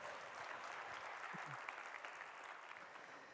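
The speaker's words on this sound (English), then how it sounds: "Give some applause." Audience at a Ruby programming conference applauding a speaker taking the stage, a steady, even roar of many hands clapping throughout, fairly distant and uniform with no clear talk over it.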